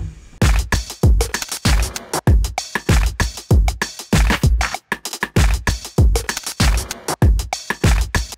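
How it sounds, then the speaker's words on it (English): Electronic drum loop built from chopped beat map patterns, with punchy, fast repeating hits in a driving, busy rhythm, loud and continuous with no talking. "But then I created this drum loop, which sounds like this."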